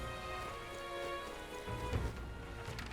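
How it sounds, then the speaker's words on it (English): Rain falls steadily in the fantasy video game Metaphor: ReFantazio, a soft even patter layered under a tonal musical background, faint and continuous. "Oh, it's raining."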